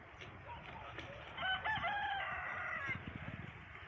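Village chickens clucking with a rooster crowing once in the middle, close and fairly loud against a rustling farmyard background.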